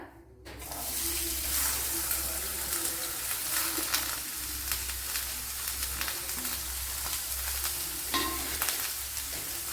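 Chopped onions sizzle steadily in a tablespoon of coconut oil in a pan, a continuous close frying hiss with occasional stirring scrapes, heard alone without talk.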